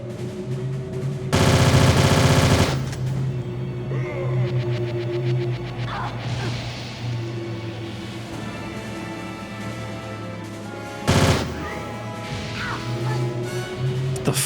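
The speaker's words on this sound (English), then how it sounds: "He can shoot through the pillars." Enemy gunfire in Tomb Raider: The Angel of Darkness, loud bursts of automatic shots in two separate volleys, the first about a second long and the second brief, over a humming game ambience.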